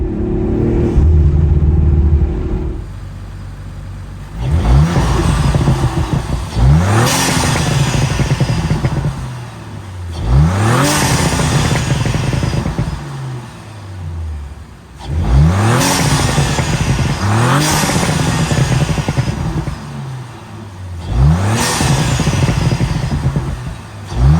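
An Audi RS5 turbo engine fitted with a 034Motorsport carbon fiber intake revs hard about five times, each rise climbing sharply then dropping back to a loud idle, close and alone.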